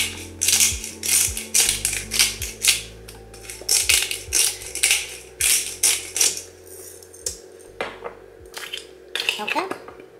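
A hand pepper grinder cranks peppercorns for a recipe with feta, giving a close, loud series of rapid ratcheting, crunching bursts in an irregular rhythm across the whole stretch, with no talk.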